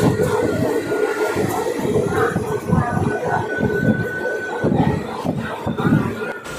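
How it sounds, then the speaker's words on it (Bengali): A local train rolls across a bridge on a rural line, its steady rumbling clatter filling the near field with constant rhythmic rail noise and faint voices mixed in. "আমার খুব ভয় লাগে যখন ট্রেন ব্রিজের উপর দিয়ে পার হয়।"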